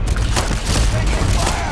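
Rapid gunfire blasts out in a Starfield combat firefight, loud and continuous over a rumbling low-end bed, with no break across the short stretch.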